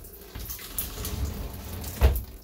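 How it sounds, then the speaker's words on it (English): Water gushes and splashes steadily from an RV faucet, driven by a water pump's low mechanical rumble underneath, with a brief louder surge near the end. "Go ahead, turn on the water pump."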